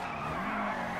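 A car drifting in the video game GTA V, with a loud, steady tire screech that lasts about a second.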